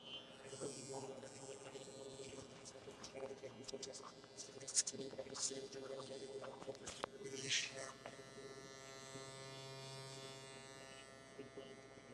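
A Klipaz MC1 Charcoal adjustable hair clipper hums steadily at close range while it cuts hair, its buzz pitch wavering slightly as it moves, with a brief voice in the background.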